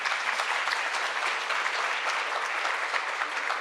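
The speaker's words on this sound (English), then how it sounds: "give them a round of applause" An audience at a parks keynote gives board members a round of applause, a loud, dense and sustained roar of clapping from many hands, even from start to finish with no talk.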